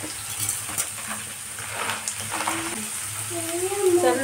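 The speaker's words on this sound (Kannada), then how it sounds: "ಈಗ ಉಳ್ಳಾಗಡ್ಡಿ ಚಟ್ಕೊಂಡಿರುತ್ತೆ ಎಲ್ಲ ತರಕಾರಿ" Onions and mixed vegetables frying in a pan with roasted peanuts, stirred now and then, giving a steady close sizzle with scraping and clatter from the spoon and a faint voice in the background.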